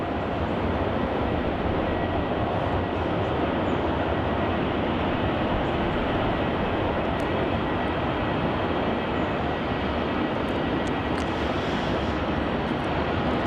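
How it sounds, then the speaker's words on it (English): A Rex Airlines flight arriving from Mildura lands on runway 34 at Melbourne Airport, a continuous loud broadband engine roar that holds steady throughout with no voices. "Coming in on runway 34, we have Rex flight ZL3653 heading in from Mildura."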